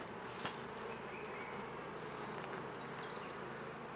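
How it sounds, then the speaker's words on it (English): Honeybees hum in a small nuc hive holding four or five frames, a steady close buzzing that fills the whole stretch with no voices over it. "But lots of bees."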